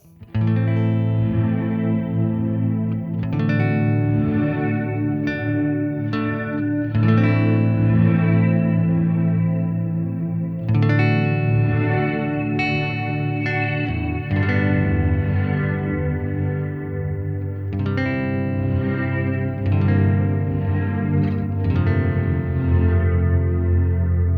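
Guitar chords played through an ambient reverb pedal, fully wet on a spacey preset, ring out in heavy reverb, washing into long shimmering tails that blend each strum into a dense drone.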